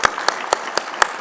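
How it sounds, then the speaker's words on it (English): A conference audience applauds a round for state broadband directors at a SpaceX fireside chat, a steady wash of many hands with a few sharp claps standing out at an even pulse, close and full. "another round of applause please for the state broadband directors"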